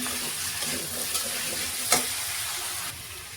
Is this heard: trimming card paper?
no